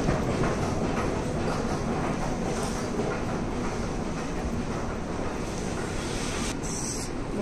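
A metro train rumbles along steadily near Pasar City MRT station in Malaysia, a dense, continuous roar with faint rhythmic clatter of wheels on track.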